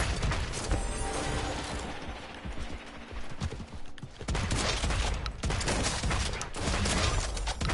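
Sustained bursts of automatic gunfire rattle through a Realm Royale firefight, loud and dense with mechanical clicks, pausing briefly before resuming with more rapid shots.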